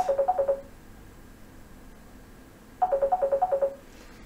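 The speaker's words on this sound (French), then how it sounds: "J'ai le téléphone qui sonne." A mobile phone rings in a phone repair workshop, two bursts of a rapid, repeated melodic ringtone separated by a quiet pause, clear and close with no one speaking.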